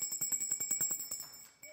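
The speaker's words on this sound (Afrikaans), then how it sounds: "Ek het my klokkie onthou." A small hand bell rung repeatedly in quick, even strokes for over a second, bright and fairly close, then a last single ring after a brief pause.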